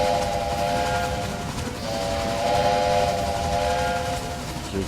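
Steam locomotive whistle in the railway game Railway Empire, two sustained shrill blasts over continuous rolling train rumble, loud and close, with no talk.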